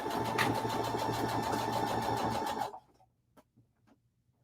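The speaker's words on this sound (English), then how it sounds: "Now we just got to put the block together and sew the rows together." A sewing machine joins the rows of a quilt block with a fast, even rattling hum for under three seconds, then stops, leaving near silence broken by a few faint clicks and a soft bump at the end.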